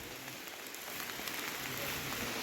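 Steady rain hisses evenly throughout, a dense constant patter with no other sounds standing out, on a rainy, foggy road between Rize and Trabzon.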